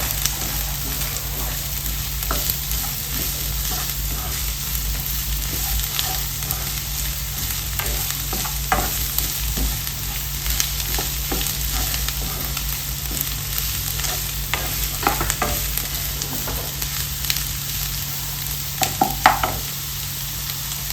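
Onions sauté in a hot pan with a loud, constant sizzle, and a spoon scrapes and stirs through them now and then over close, continuous frying.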